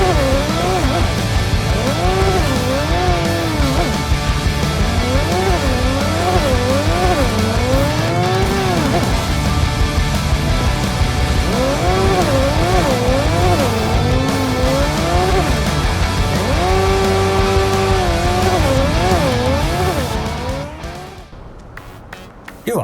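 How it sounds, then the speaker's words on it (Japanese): A motorcycle in modded Cyberpunk 2077 runs continuously, its engine whine rising and falling with revs under a loud steady road roar, then fading away near the end. "かなり没入感のあるバイクの運転が楽しめると思います"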